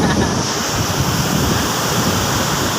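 Heavy surf from swelling southwest monsoon seas, a dense, continuous wash of breaking waves mixed with strong wind noise on the microphone, loud and near throughout.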